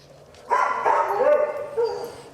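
Dogs at a rescue give a burst of excited barks and yips that run together, fairly close and loud, with a person's voice mixed in around them.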